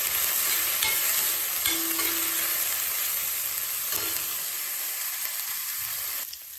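Onions fry in a pan until golden, giving a continuous close sizzle and hiss with faint stirring clinks and no talking.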